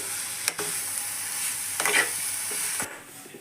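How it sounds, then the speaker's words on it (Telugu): Carrot halwa with sugar stirred in a kadai, a steady close sizzle with a few scraping strokes of a spoon, then cutting off near the end. "ఇప్పుడు మనం ఈ షుగర్ కలిసేదాకా నీట్గా కలుపుకుందాం"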